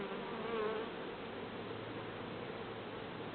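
A steady, low drone of buzzing bees fills the air, continuous and fairly faint, with no voices.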